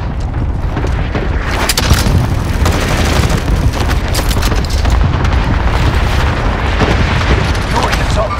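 Dense, loud video game gunfire in a battle royale match, rapid overlapping shots and booms rattling continuously from start to finish, up close and relentless.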